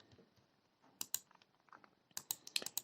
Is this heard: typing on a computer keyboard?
yes